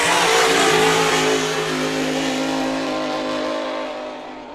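A GP10 racing hydroplane engine roars as the boat powers out of a turn during a race at the Valleyfield regatta, loud and steady with a sustained high whine that slowly fades as it pulls away.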